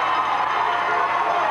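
Crowd at a 1988 high school baseball championship game, Somersworth against Fall Mountain, cheering as a dense, steady roar of many voices, with no distinct single words.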